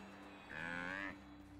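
Cattle in the video game Guild Wars Nightfall give a single drawn-out moo lasting about half a second, set over a faint, steady background hum.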